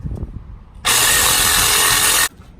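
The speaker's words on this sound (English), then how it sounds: "I have to cut through all this rust" A power tool bursts on, cutting loudly through rusty exhaust pipe on a Ford F-150 pickup for about a second and a half of harsh, continuous grinding noise, then stops abruptly with quieter shuffling before and after.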